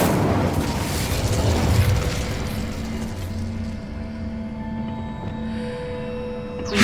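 Incendio fire spell cast in the Hogwarts Legacy video game, heard as a loud, close explosive burst and roaring rush that fades into a lingering low hum with faint tonal ringing, then a fresh swell at the very end.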